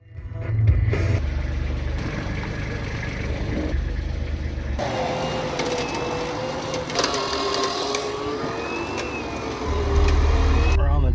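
A truck towing a trailer backs up at a raceway swap meet, its engine a steady close drone with whirring and rattling over the top, growing louder toward the end.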